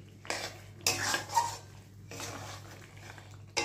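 A metal spoon scrapes and clatters against a pan as spiced potato curry is stirred and fried for a vegetarian offering, several distinct scraping strokes over a faint steady sizzle, close and fairly quiet.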